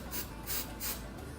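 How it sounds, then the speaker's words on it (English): Hairspray misted around the border of a wig, giving several soft, hissing bursts of spray close by, each lasting a fraction of a second with short pauses between. "So you're going to want to spray it all around the border right here."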